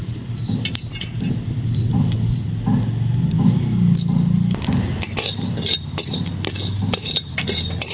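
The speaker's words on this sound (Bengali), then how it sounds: "শুকনো কড়াইতে পাঁচফোড়নগুলো আমি ভেজে নেব" Panch phoron spices dry-roast in an empty wok, with a continuous dry rattling and scraping of seeds against the metal and sharper clinks of stirring toward the end.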